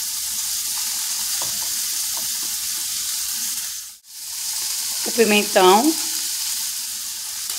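Pepper (pimenta de cheiro) sizzling in a pan of chickpeas, a steady broadband frying hiss running throughout with a short break midway, while a voice speaks briefly near the end.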